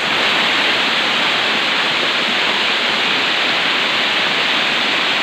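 Rushing water at Wara Wara Falls in San Isidro, Bulan, Sorsogon: a loud, dense, unbroken roar that holds steady from start to finish with no pauses.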